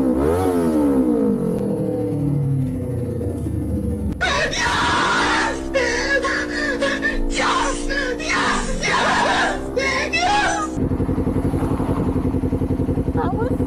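A biker's motorcycle pulls up, its engine rumbling and revving loudly with rising and falling pitch over several seconds before settling into a steady idle; a voice and other sounds are heard before it arrives.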